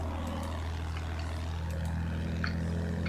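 Enemy warplane in the World War I shooter Battlefield 1, a steady droning propeller engine hum running throughout at moderate distance, with faint game effects on top and no talk.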